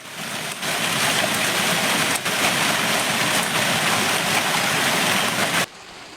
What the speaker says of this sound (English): the town of Vieurville-Bray is also experiencing a veritable hailstorm